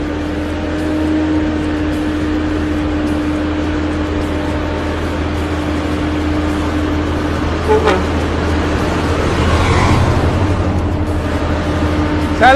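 Steady road traffic on a mountain pass, with a constant low engine rumble and passing vehicles, a brief horn toot and faint distant voices.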